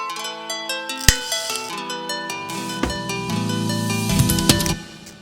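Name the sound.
nylon string guitar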